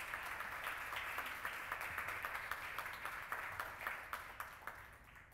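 A seated audience at a French-language event on information-access rights applauds an Ontario privacy commissioner, producing a soft, fairly distant wash of clapping in which a few individual sharp claps stand out in a loose rhythm.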